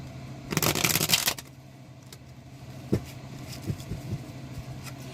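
A brief riffle of tarot cards being shuffled, stiff and water-worn, then quieter handling with a few soft taps and shuffles against a low background hum.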